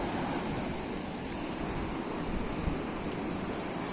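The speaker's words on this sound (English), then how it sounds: "Sea's looking rough as hell today." Rough winter sea at Benidorm on a dull wet day, a steady broadband roar of breaking surf mixed with wind noise, constant and fairly loud with no voices.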